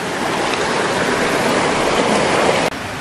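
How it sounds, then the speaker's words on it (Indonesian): A mountain river on the Gunung Salak trail to Kawah Ratu rushes steadily and loudly close by, a dense unbroken roar of water that dips briefly near the end. "Jadi kita melewati kanan kiri sungai."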